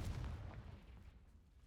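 A Confringo blast spell in a Harry Potter video game, a single rumbling explosion at the start that quickly fades into a soft low tail.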